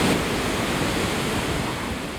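Ocean waves wash steadily onto the shore in a continuous broad hiss, with some wind buffeting the microphone and no voices.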